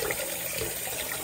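Water runs steadily while chitterlings are rinsed in a sink, a continuous close splashing wash with no talk.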